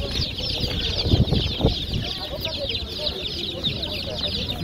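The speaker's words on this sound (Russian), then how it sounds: "А почем ваши цыплятки?" Chickens clucking and calling at an outdoor bird market fair in Kropotkin, a busy mix of near and farther clucks over steady crowd murmur, with people talking nearby.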